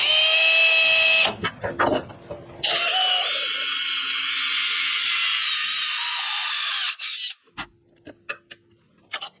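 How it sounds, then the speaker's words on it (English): Power drill boring a hole to mount a transmission cooler on a 1967 Ford F100, a steady high whine running in two long bursts with brief clattering and knocks between and after. "get the second hole drilled"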